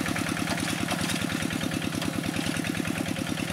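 A Quick G1000 rice field tractor with its stock Kubota RD85DI2S diesel engine runs close by, a fast, even, throbbing chug that stays loud and steady throughout with no talk.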